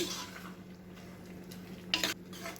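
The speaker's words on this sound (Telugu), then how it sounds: "ఒకసారి గరిటె తీసుకొని మనము ఈ పప్పు ఆకుకూర అంతా కూడా మనం కలిపేద్దామండి." A ladle stirs drumstick-leaf dal in a pot, soft faint scraping and swishing over a low steady hum, with a brief louder scrape near the end.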